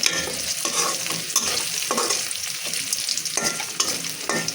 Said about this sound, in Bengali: এখন পেঁয়াজ ভালো করে বেরেস্তা করে নিচ্ছি, সাথে একটু তেজপাতা, একটু দারচিনি, একটু এলাচ দিয়ে দিলাম।